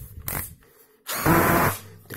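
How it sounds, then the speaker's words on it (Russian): Patriot BR241Li cordless screwdriver runs in short bursts, a brief whir followed by a longer, louder buzzing run with rattling ratchet clutch clicking, close up and without speech. "Трещотка работает у нас прекрасно."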